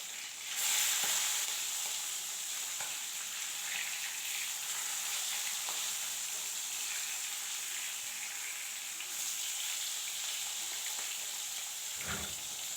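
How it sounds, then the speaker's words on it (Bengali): Steady crackling sizzle of turmeric-and-salt-coated katla fish frying in hot oil, continuous and close, with a few faint clinks and a soft thump near the end; no voices. "নুন হলুদ মাখানো কাতলা মাছগুলো সব ভালো করে ভেজে নেব"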